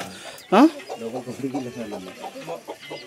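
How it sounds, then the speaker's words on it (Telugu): Small chicks in a farmyard pen with goats nearby, one sharp high cheep near the start, then a person talks over the faint background. "కోడి పిల్లలు ఉన్నాయి చూడండి అక్కడ, చిన్న చిన్న కోడి పిల్లలు భలే ఉన్నాయి."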